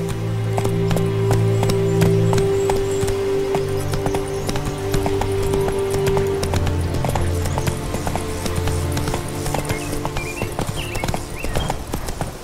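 Roach, a horse in The Witcher 3, gallops with a fast, even clip-clop of hooves that carries through the whole stretch, backed by a low tonal game score that fades partway through.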